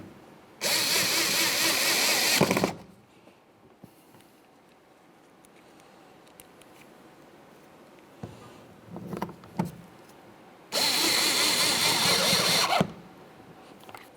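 A power driver whirs in two loud, steady bursts of about two seconds each while fastening Phillips head screws on a 2005-2010 Chevy Cobalt front exterior door handle, with faint clicks and handling noises between.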